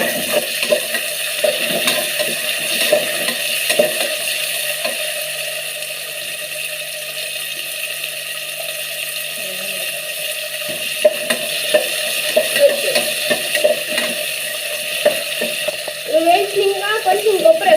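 Onions fry to golden in a pan, a loud continuous sizzle layered with repeated stirring scrapes and clicks that grow busier near the end.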